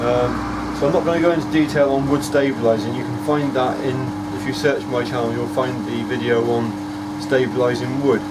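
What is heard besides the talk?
vacuum pump running for wood stabilising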